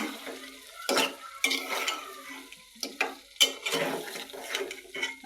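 Boiled potatoes stir-fried with spices in a pan, close by: repeated scraping stirs and clatter over a steady low sizzle, with a handful of louder strokes spread through.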